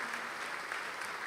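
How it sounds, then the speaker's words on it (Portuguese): A church congregation applauds, a dense, steady wash of many hands clapping together at an even level throughout the short stretch, with no voices standing out. "Vamos aplaudir mais, igreja."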